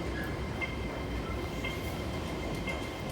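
A C train rolls into the platform at Tsuen Wan West Station, a steady low rumble of rail wheels and carriages with faint high tones, no voices.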